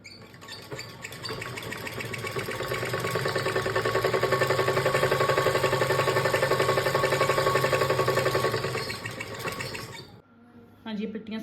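A sewing machine runs a continuous stitching pass along a trending neck design, a steady close mechanical whir with rapid rhythmic needle clatter for about ten seconds before stopping, followed by brief quiet handling.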